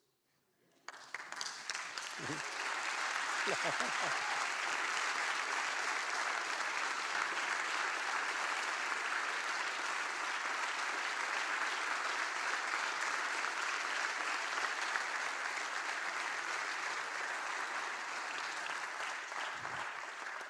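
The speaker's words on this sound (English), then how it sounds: "I think you guys should applaud those" Applause from the audience at a TEDx event at Nova SBE starts abruptly and holds as a dense, even roar of many hands clapping for about twenty seconds.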